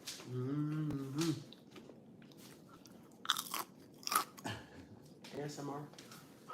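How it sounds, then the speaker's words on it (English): Food crunching as it is bitten and chewed, several sharp crisp bursts close up, mixed in with people talking and exclaiming. "You hear that crunch?"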